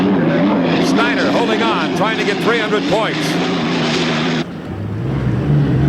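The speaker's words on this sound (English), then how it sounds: "here's Pierce in that Marine Turbine Lycoming engine" An unlimited hydroplane race boat with a Marine Turbine Lycoming engine, racing at the 1987 Columbia Cup in Tri-Cities, Washington, gives a continuous roaring whine under excited race commentary. The pitch shifts as the boat passes.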